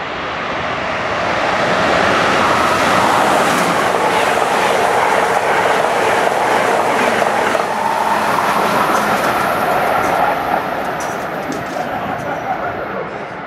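A high-speed Amtrak train rumbles steadily past a station platform up close, a broad roaring wash of wheels and rail noise that swells and holds before easing slightly at the end.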